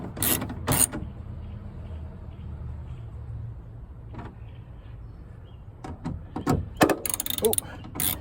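A ratchet clicks in short bursts while speaker bolts are tightened crisscross inside a 3rd gen Toyota Tacoma Access Cab door, quick runs of clicking near the start and a denser cluster at the end, with quiet gaps between.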